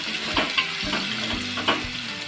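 Chopped onions and green chillies stir-fried in a pan for a Maharashtrian banana flower vegetable dish, giving a steady close sizzle with soft scraping stirs and a few light clicks.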